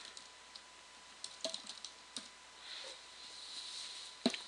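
Quiet, scattered keystrokes on a computer keyboard, a few light taps and clicks spread unevenly while a style name is entered, close and faint with no talk.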